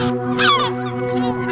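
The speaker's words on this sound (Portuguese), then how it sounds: "45 mil gaivotas de patas amarelas já ocuparam a Berlenga." Yellow-legged gulls on Berlenga island, loud harsh squawking calls from a nearby bird, layered over a steady background drone.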